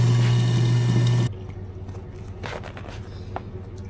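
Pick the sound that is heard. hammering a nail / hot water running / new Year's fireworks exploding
hot water running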